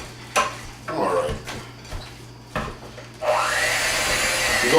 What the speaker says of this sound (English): We're going to mix this up nice and well until everything's well incorporated.